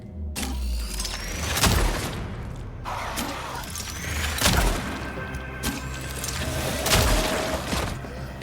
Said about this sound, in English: So the bolt cutters do take off the lock and the chain.